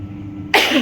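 A single sharp, close cough from a woman at home, bursting out over a low steady background hum.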